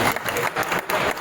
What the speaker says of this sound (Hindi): मैं समझता हूँ कि जोरदार तालियों के साथ आप समर्थन देते हैं।